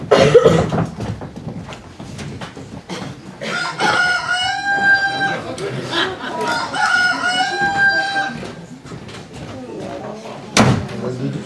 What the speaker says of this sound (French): Je vais le tuer, ce coq